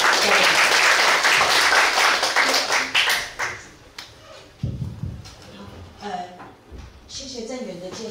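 Dense, loud applause from a lecture audience at a university talk, sustained for about four seconds and then quickly dying away as a voice begins speaking.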